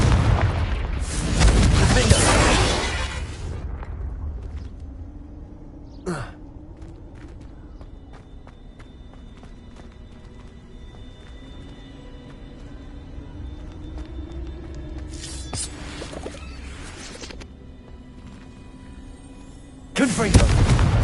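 Confringo blasting spell explosions in the video game Hogwarts Legacy: two loud, broadband booms near the start and end, a sharp crack around the sixth second, and quieter rumbling blasts later, with a low ambient hum between.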